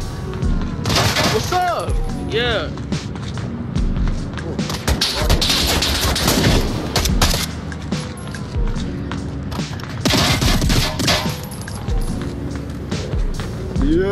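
Rapid gunfire from the VR shooter Onward on a new map, loud bursts crackling alongside footsteps and impacts while players talk over it.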